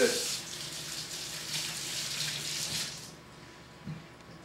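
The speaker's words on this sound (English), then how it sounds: "we need to wash our hands as many times as we can because we're dealing with poultry" Water runs from a kitchen tap as hands are washed during poultry preparation, a steady broadband hiss for about three seconds that then cuts off, followed by a brief soft knock.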